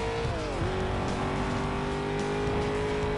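A car engine in Need for Speed Most Wanted (2005) drones loud and close, its pitch sliding down sharply early on before holding a steady high whine with a rough, buzzing undertone.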